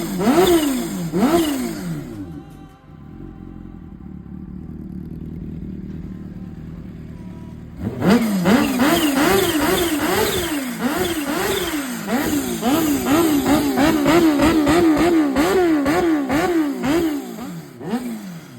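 Kawasaki Ninja H2 motorcycle engine, warmed up, revved repeatedly in quick rising and falling blips, with a brief steadier idle in the middle and then a rapid series of close, loud revs.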